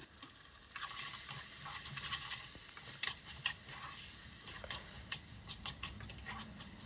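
Onion and tomato sautéing in a pan for dry fish curry, a steady soft sizzle with occasional stirring scrapes and small clicks throughout, with no talking.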